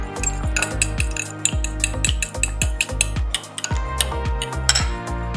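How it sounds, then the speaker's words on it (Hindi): Two eggs with a pinch of salt being whisked in a bowl, a steady run of rapid clinking strokes against the side, close and fairly loud with brief pauses, no talking. "इसमें 1 पिंच नमक डालकर अच्छे से फेंट लेंगे।"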